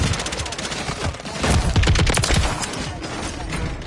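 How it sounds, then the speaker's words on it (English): Dense, continuous automatic gunfire from a Call of Duty Warzone match, loud bursts of rapid shots layered over one another throughout, with faint voice chat underneath. "I can't hear you over all this gunfire."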